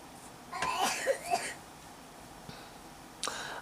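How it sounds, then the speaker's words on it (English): A few raspy coughs in a short cluster, fairly close and moderate in volume, followed by a quieter pause and one more brief hacking sound. "I'm wondering if this coughing is a result of these tubes"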